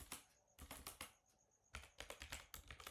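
A computer keyboard clatters close up in quick bursts of keystrokes while a switch statement is being typed, with short pauses between runs of clicks.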